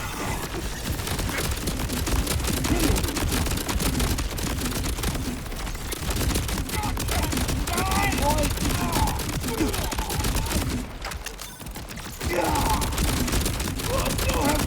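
Sustained gunfire barrage in the video game Borderlands 4, rapid continuous shots and bursts layered with game effects, loud and close, with voices talking over the action at points.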